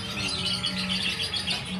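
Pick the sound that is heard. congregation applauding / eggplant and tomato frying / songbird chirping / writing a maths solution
songbird chirping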